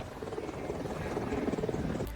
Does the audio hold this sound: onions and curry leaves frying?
no